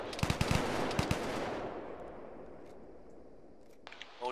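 Machine gun fire in the ArmA military video game: a rapid burst of loud gunshots rattles for about a second and a half, then rolls off into a long fading echo, with a faint voice near the end.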